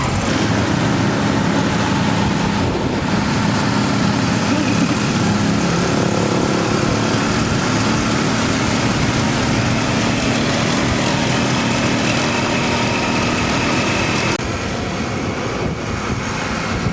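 A motorbike carries its riders along a road toward Las Piedras, Bolivia, its engine droning loudly and steadily with heavy wind rush throughout, easing slightly near the end.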